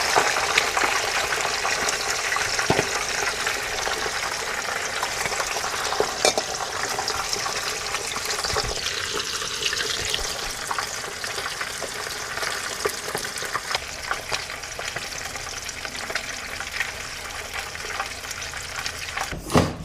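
Mackerel frying in oil in an outdoor backyard pan, a loud continuous sizzle and crackle for the whole stretch with occasional sharper pops, no voices.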